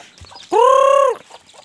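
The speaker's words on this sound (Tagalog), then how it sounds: "Papakain tayo ng ating mga manok." A single loud, drawn-out chicken call rises clearly above quiet background clucks and shuffling, lasting about half a second.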